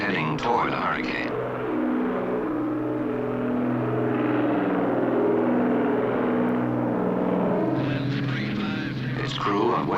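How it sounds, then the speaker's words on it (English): A U.S. Navy Hurricane Hunter airplane flying toward a hurricane, its engines droning in a steady, loud, rumbling hum throughout, with a voice speaking over it at the start and end. "This airplane is heading toward a hurricane."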